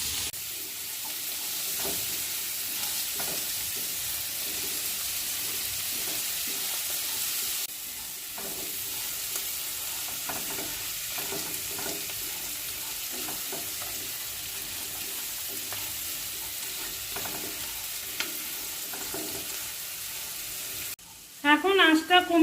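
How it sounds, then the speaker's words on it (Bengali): Broken wheat pulao is fried with salt on medium heat, stirred steadily in the pan, giving a constant close sizzle with scraping strokes throughout, and a brief voice is heard at the very end. "লবণ দিয়ে দিচ্ছি, দিয়ে ভালো করে নাড়াচাড়া করে ভেজে নিতে হবে মিডিয়াম আঁচে।"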